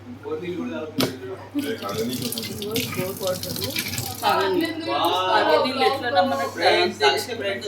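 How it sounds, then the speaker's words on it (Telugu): Water runs steadily from a tap, splashing into a sink, while people talk over it and a voice joins in. "వాటర్"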